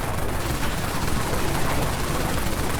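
The Arc 9 Tesla cannon in Dead Frontier fires in a dense, continuous crackling burst of electric discharge, loud and unbroken throughout.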